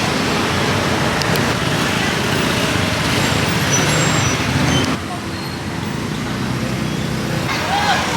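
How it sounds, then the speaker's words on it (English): Chaotic street traffic in Phnom Penh, Cambodia, with scooters, tuk-tuks, cars, buses and trucks, forms a dense, constant roar of engines close by, dipping briefly midway, with some voices mixed in. "you have scooters and tuk-tuks and cars and buses and trucks coming out of everywhere"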